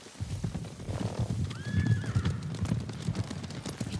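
Horses approaching in the video game Ghost of Tsushima, with steady hoof clip-clops and a clear neigh midway, moderately loud and close under a low ambient rumble.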